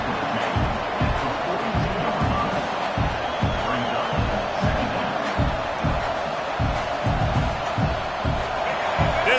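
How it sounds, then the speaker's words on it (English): A stadium crowd in the College Football 26 video game, LSU against Michigan State, roars as a steady loud wash, with rhythmic low thumps pulsing through it and a commentator talking over the noise. "This crowd trying to make life miserable for this offense."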